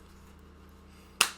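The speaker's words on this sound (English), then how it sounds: "Yeah, I'll clap." A single sharp hand clap lands near the end, close and crisp with a short decaying ring, after a quiet stretch of low room hum.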